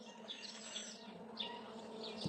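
Honeybees starting to swarm from a hive, giving a steady, dense buzzing hum with several louder passes of individual bees near the listener.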